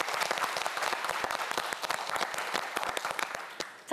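A quiz show studio audience claps briskly, a dense, even patter of hands sustained for a few seconds, moderately close with no talk over it.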